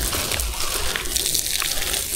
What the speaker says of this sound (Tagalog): Watering kayo na ito mga kabayan.